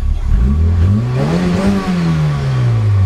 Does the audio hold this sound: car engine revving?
yes